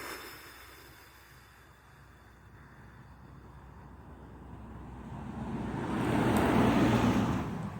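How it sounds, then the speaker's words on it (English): Traffic noise from cars passing on a road stays faint at first, then a vehicle approaches and swells into a louder broadband whoosh toward the end before starting to fade, with no talking heard. "there will be sounds of cars going by me"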